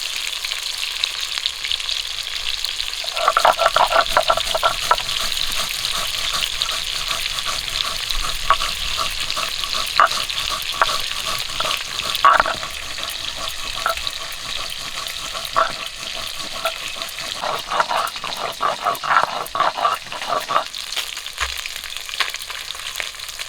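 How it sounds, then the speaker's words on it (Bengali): Sea fish frying in hot oil, a steady close sizzle that swells loudly after a few seconds and holds with crackling bursts before thinning near the end, no voices. "তেলটা ওইদিকে কিন্তু গরম হয়ে গেছে আর মাছগুলো দিয়ে ভেজে নেব"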